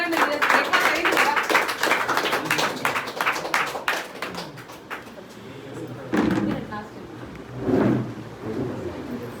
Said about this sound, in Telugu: చప్పట్లు గట్టిగా పెట్టండి.